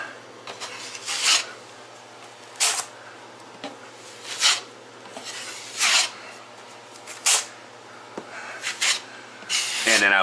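A drywall knife spreads a light first coat of joint compound over a kitchen wall, giving soft, evenly spaced scraping strokes, near and fairly quiet, with no speech.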